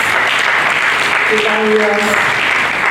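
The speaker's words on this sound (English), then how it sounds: "I thought we could have clapped for that" A conference audience applauds, with steady dense clapping filling the room throughout and a brief voice or tone passing over it partway through.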